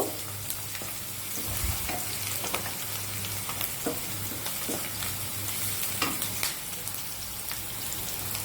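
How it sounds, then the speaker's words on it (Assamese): Steady sizzling of onions frying in a pan, a dense crackling hiss with occasional sharper pops, close and moderately loud, no voices. "পিঁয়াজখিনি ভজা হৈ গৈছে, অলপ ব্ৰাউন কালাৰ হৈছেগৈ"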